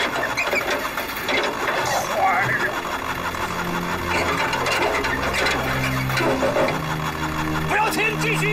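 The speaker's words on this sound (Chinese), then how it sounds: "踩油门。" A military truck engine revs and roars steadily at close range during a wartime battle scene, with voices talking over the drone.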